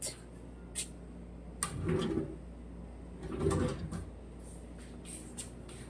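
A cabinet drawer slides open and shut twice with soft wooden scrapes, separated by short clicks and knocks in a quiet room.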